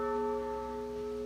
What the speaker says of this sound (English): Churches like this one in Warwick today joined in with 96 chimes marking every year of the late Queen's life.